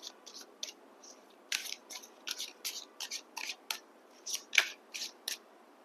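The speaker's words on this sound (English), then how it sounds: "Let me just pick up one more card for you" Tarot cards are handled and drawn from a deck in a quiet room, making a quick series of crisp papery snaps and flicks. The snaps come in uneven bursts, close and fairly faint, with no talking.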